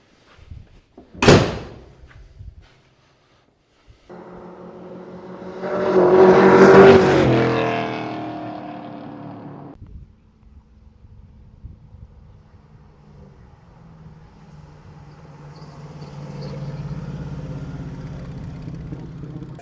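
A 1965 Ford Mustang GT fitted with Edelbrock upgrades: one sharp, close door slam, a pause, then the engine starts and revs loudly before settling into a steady, lower rumble as the car drives off, with no talking.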